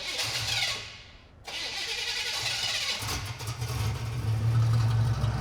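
A turbocharged Chevrolet Monte Carlo engine cranks briefly, cuts out, then fires up and settles into a loud, rumbling idle that grows heavier toward the end.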